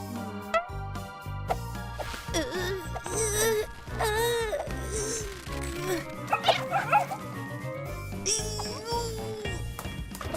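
A small dog yips and whimpers repeatedly, high-pitched and close, mixed with whining over a sustained musical background.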